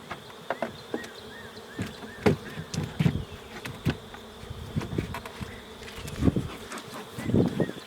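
Honey bees buzz around an open hive during a spring inspection, a steady hum with individual bees zipping close past in brief louder swells, no talking.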